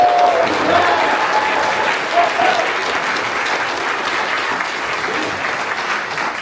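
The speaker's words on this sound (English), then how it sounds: "stop clapping so much" Sustained applause from an audience fills the whole stretch, dense and steady clapping with a faint voice or two rising briefly above the wash.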